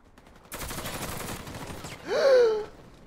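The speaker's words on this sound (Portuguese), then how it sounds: "Eu dei um tiro na cara dele." Gunfire in the online shooter Warface played on a hardcore mode, a brief rapid burst of shots followed by a short vocal cry, heard close with no talk.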